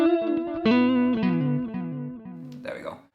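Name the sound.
quick delay effect on guitar, Sonicake Levitate pedal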